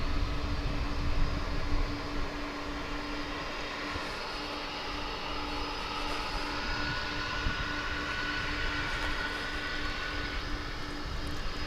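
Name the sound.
aircraft noise at DFW airport, likened to Fireball XL5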